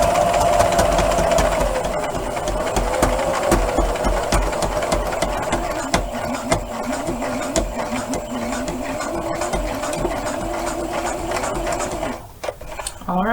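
A sewing machine stitches gloves made from sweatpants, whirring in a steady, close mechanical drone that runs almost the whole time before stopping near the end.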